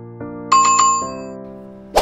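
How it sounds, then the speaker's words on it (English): A bell rings out as a sound effect, with a sustained tonal chime and a few bright repeated dings, followed by a short fresh strike at the end. "Ring the bell."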